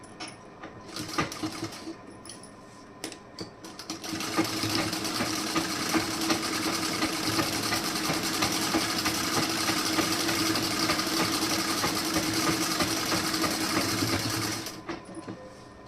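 An electric sewing machine runs steadily for about ten seconds as it stitches an extra side seam on a garment, opening and closing with a few soft handling taps.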